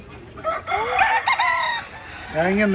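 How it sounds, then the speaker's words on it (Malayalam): Hens cluck and call close by on a farm in Dubai, in short rising bursts, several birds overlapping, fairly loud with no talking. "പിടക്കോഴി എല്ലാം കയറി നിൽക്കുന്നു"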